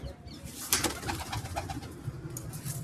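Pigeons coo in a loft, several soft throaty calls repeating at an easy rhythm, close by, with light wing and movement noises and no talk.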